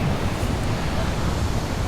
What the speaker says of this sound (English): the waves are getting much bigger